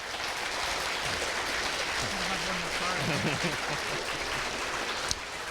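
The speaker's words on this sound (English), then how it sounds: "Let's give them all a big round of applause" Audience applause at a 2024 BC election candidates debate in Kamloops, a steady broadband wash of clapping lasting several seconds with a faint voice or murmur rising briefly in the middle.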